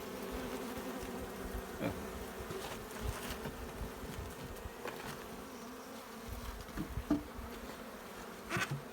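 A dense, steady hum of a honeybee colony buzzing, fairly quiet and continuous, with individual bees passing closer now and then.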